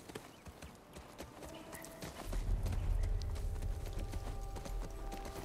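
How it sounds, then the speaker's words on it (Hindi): Horse hooves clip-clopping in The Last of Us Part II, a steady walking rhythm of close hoof strikes that grows fuller and louder halfway through, with no talk. "घोड़े का मैकेनिक ही बहुत रियलिस्टिक है"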